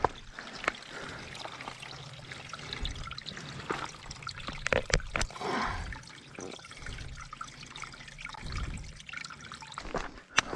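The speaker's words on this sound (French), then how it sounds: "premier ravitaillement en eau" Water poured and trickling into a bottle at a refill stop on a two-day hike around Lac de Vouglans, a steady faint splashing and gurgling with occasional drips and outdoor background.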